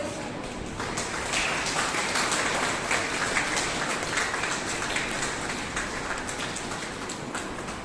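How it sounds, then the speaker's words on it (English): Audience applause at an annual founder's and parents' day school celebration, a dense, steady patter of many hands clapping throughout, moderately loud and somewhat distant in a large space, with no voices standing out. "Please, let's have the applause going."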